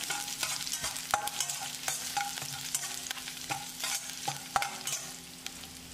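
Dried red chillies, finely chopped ginger and garlic sizzle as they are stir-fried in a pan, with steady frying crackle and irregular scraping and tapping of a spatula against the pan, close and without talk.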